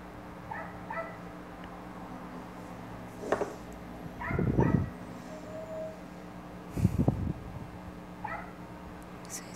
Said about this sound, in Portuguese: Esse cachorro é o cachorro da vizinha que tá latindo.